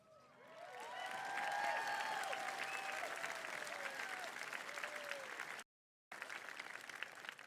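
Audience applause and cheering fill a 2021 high school commencement ceremony, building quickly into sustained clapping with some whistles, broken by a brief dropout before resuming.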